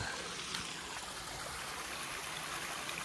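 Steady rushing of a rain-swollen creek on the Appalachian Trail spilling over small waterfalls, a loud constant broadband roar with no voices.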